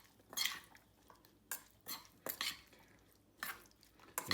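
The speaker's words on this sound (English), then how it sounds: "So these are just going to get stirred around." Mussels stirred in a pot, bursts of shells clattering and scraping against the metal in irregular pulses with quiet gaps between them, close and fairly soft, with no talking.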